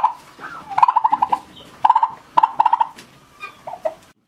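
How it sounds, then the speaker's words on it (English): Turkeys, brought from Congo, gobbling nearby at a farm in Zambia in loud rapid bursts, several rattling calls in a row with short pauses between, no talking. "These turkeys were brought down from Congo"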